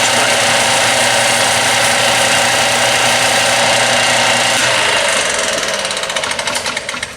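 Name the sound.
cleaning a transmission part with Scotch-Brite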